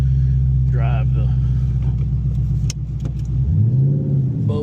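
A car engine revs and accelerates up close, a steady low drone climbing in pitch toward the end, with a brief voice heard early on.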